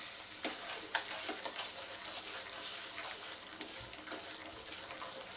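Spoon stirring a tamarind pulikaichal mixture in a pan, with continuous scraping and sizzling, wet stirring strokes and a few sharper clinks, close and fairly loud.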